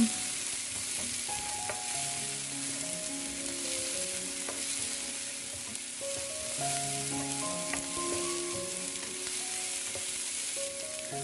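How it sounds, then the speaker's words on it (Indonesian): Steady sizzling and frying of tomatoes and chili being sautéed in a pan, with occasional stirring clinks and scrapes, continuous and close throughout. "Lanjut kita tumis sampai tomatnya layu."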